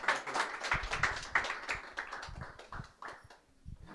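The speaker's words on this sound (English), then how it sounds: "And clap it up for the brother." A church audience claps to welcome the next speaker, giving a few seconds of moderately loud, quick, uneven clapping that thins out toward the end.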